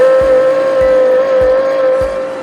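An electric vehicle motor runs on a powertrain test bench with the throttle held on, giving a steady, close electric whine with faint periodic thumps about every half second.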